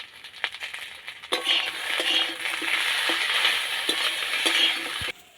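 A paste of ground ginger, cumin, radhuni and coriander drops into hot oil in a pan. It flares into a steady, close sizzle after a few initial taps and clinks, then cuts off abruptly.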